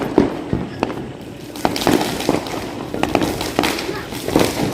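Diwali firecrackers go off outside a new home, a rapid string of sharp bangs and pops with some thumps, fairly close and loud, while people talk over them.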